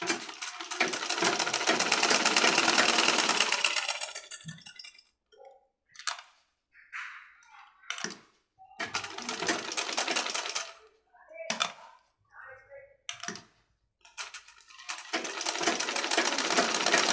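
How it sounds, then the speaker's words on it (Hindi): An electric sewing machine stitches men's underwear fabric in loud, rapid mechanical bursts: one long run, then several short starts and stops, and another long run at the end, with quiet gaps between. "फिर यहाँ से इसको इस तरीके से मारेंगे सिलाई में।"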